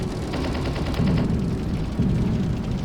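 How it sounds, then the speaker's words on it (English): Fox unit in the video game Urban Assault launching a rocket: a steady rumbling roar of game weapon fire with louder bursts about once a second, dense and continuous with no talk. "The Fox fires a rocket."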